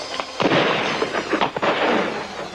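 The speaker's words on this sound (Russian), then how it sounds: "Выстрелы!" Gunfire in a 1966 Soviet adventure drama film, a rapid burst of several sharp, loud reports with a noisy, reverberant wash behind them and no talking.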